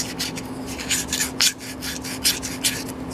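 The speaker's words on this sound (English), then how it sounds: "now I'm going to take just a little bit of sandpaper, if I can find where I put it, and go around the edges" Sandpaper rubbed around the inner edges of a 3D printed serpent part to remove burrs, a close, steady run of rasping back-and-forth strokes over a low electrical hum, with no talk.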